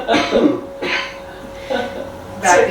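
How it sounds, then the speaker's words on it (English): A man gives several short, sharp coughs spaced apart in a quiet room inside a Victorian house, each burst distinct and fairly close. "Right behind his cough, behind his cough."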